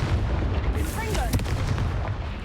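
A Confringo fire spell blasts in Hogwarts Legacy, a dense explosive burst with crackling whooshes over a constant rumbling game soundscape, close and loud.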